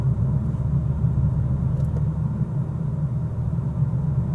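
A car driving along a road, heard from inside the cabin as a steady low rumble of engine and tyres, even and continuous with no voices.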